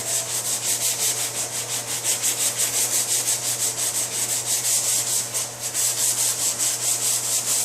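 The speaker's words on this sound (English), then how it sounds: "This will clog the paper up even faster because I'm sanding in such small areas" Steady, rapid back-and-forth rasping of sandpaper scrubbing body filler on a 2005 Honda S2000 in small areas, close and continuous with a regular scratchy rhythm.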